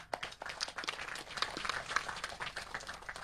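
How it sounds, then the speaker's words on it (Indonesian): Audience applause for the President of Indonesia at an official teleconference event with regional officials and farmers: a dense, steady patter of many hands clapping, fairly distant and sustained throughout with no talk over it. "Tepuk tangan untuk beliau."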